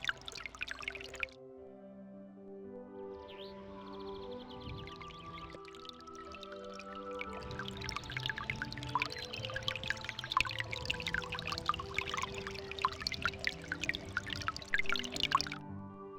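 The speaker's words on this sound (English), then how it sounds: "with the gentle water jets making their restful sounds" Gentle water jets splash into white quartz-edged ponds in a formal castle garden parterre, a soft steady pouring and dripping that swells over time.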